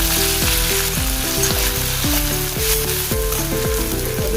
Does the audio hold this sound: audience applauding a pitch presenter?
no